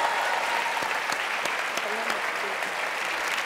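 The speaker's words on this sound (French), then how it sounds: "Applaudissements pour Marcel, s'il vous plaît." Studio audience applauding on a French television variety show, a steady dense wash of clapping filling the whole stretch at close range, with no talk over it.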